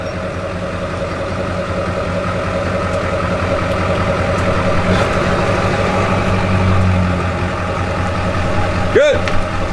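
A truck maneuvers and jackknifes a trailer, with a steady, fairly loud engine rumble and idle throughout, while people talk nearby.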